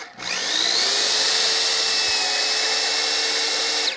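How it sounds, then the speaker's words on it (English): A power drill held in an angled pocket-hole guide bores into a wooden board, a loud, steady high-pitched whine that starts abruptly and holds for several seconds close by, with no talking. "So we're going to go ahead and drill a hole here."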